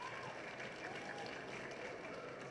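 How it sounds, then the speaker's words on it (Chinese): Audience applause welcoming a judge, a folk singer, at the 2015 folk song final for foreign contestants: a steady, dense patter of many hands filling the hall, evenly sustained with no voices standing out. "我们掌声欢迎"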